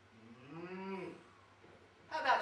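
A cow moos once, a long drawn-out bovine call at middling distance, followed by a brief burst of rustling or clattering noise; no one speaks.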